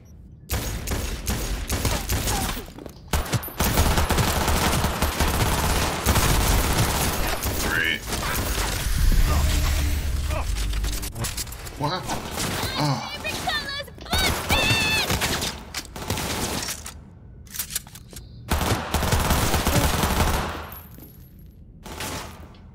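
Enemy gunfire in the video game Cyberpunk 2077, dense sustained bursts and rapid shots over busy combat noise, loud and close, running nearly continuously with a few brief gaps.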